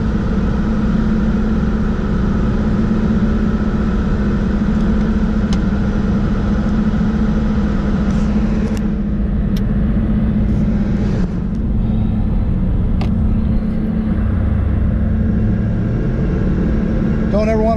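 A 2002 Ford Mustang GT with bolt-on modifications running on a dyno in second gear, its engine droning steadily and close, then briefly revving and howling near the end, with someone talking over it.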